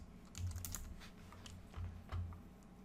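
Fingers type on a computer keyboard, a faint, quiet patter of soft keystrokes in short irregular bursts, close by with no voice.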